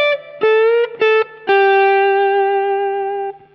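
A distorted electric guitar slowly plays a blues phrase mixing major and minor pentatonic notes: a few short, clean-edged notes, then one long sustained tone that rings out before cutting off, loud and alone.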